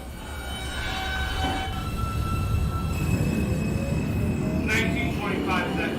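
A simulated NYC Subway R160 J local train in the OpenBVE train simulator game pulls away, with a loud rising motor whine and rumble that builds steadily. A voice talks over it.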